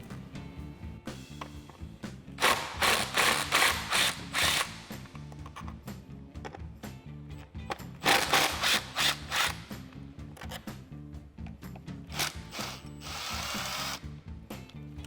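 Ratchet wrench backing out bolts that hold the air intake tube to the radiator support on a Jeep Wrangler JL 3.6L, rapid clicking bursts in several runs with short pauses between, close and clear.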